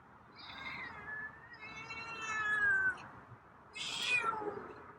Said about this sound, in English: there's a couple meows.